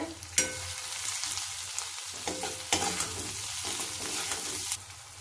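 A spoon steadily stirs aval upma (flattened rice) with onion, turmeric and salt in a hot pan, giving continuous close sizzling and frying with scraping strokes and a few sharper knocks.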